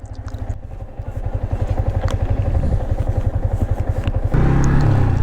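A motorcycle engine runs loud and close with a steady, throbbing low pulse, rising slightly, then growing heavier and rougher as revs climb near the end; no talk over it.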